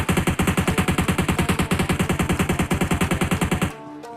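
Rapid automatic gunfire in PUBG Mobile, loud and close, with a steady burst of dozens of shots that cuts off abruptly near the end, leaving a brief quiet tail.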